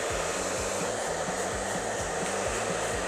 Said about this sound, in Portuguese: nós vamos agora secar esse cabelo. Agora nós vamos escovar mesmo, tá? Secar escovando.